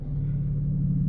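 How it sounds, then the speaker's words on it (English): Low, steady exhaust drone from a 454 bhp BMW M4 CS with its 3.0-litre engine, heard close and constant, with no voices present. "You can hear the exhaust note change there"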